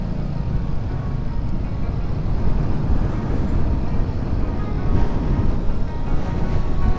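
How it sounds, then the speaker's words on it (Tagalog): Strong wind and crashing sea waves at the shore near Caticlan during a motorcycle ride, a steady loud low roar of gusts and surf that fills the whole stretch without letup. "Lakas ng hangin, lakas ng alon, no?"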